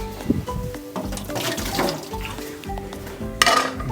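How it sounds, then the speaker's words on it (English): Water splashes and gurgles out of a cooking pot into a sink, with a clatter of metal cookware, brief and close. "Dump this water."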